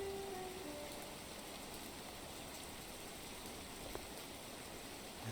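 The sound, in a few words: rain falling in a video game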